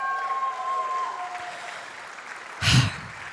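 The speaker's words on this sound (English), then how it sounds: "Can we please hear a big round of applause for M&M?" Crowd applause at the Mahindra XUV400 electric SUV launch event: a soft, even spread of clapping under a faint electronic tone, with a brief louder thump of noise near the end.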